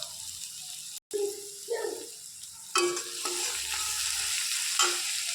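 Ginger and garlic stir-fried with browned onions in a pan, a steady close sizzle broken by scraping strokes of a spatula and a brief gap near the start.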